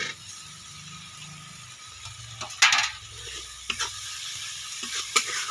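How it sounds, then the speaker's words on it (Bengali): Spice masala paste with chopped tomato and salt frying in a pan for a snail dish, a soft sizzle broken by several sharp metallic scrapes and clinks of a spoon stirring, close and without speech. "খুব ভালো করে মশলাটাকে কষিয়ে নেব।"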